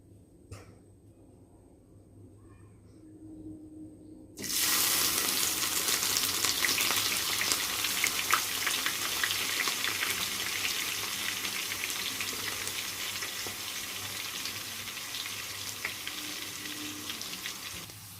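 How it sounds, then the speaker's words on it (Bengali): Carrots dropped into hot oil burst into a loud, dense frying sizzle that starts suddenly after a quiet moment and crackles steadily on, close and without talk. "এদিকে তেলটা আমার গরম হয়ে গেছে, আমি গাজরগুলোকে আগে ভেজে নেব।"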